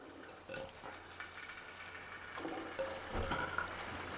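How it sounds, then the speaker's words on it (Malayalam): Washed chicken goes into a pan of hot coconut oil, giving soft sizzling bursts over a low, steady frying hiss, with no voices. "കഴുകി വാരി വെച്ച ചിക്കൻ ഇതിലോട്ട് കൊടുക്കുന്നു."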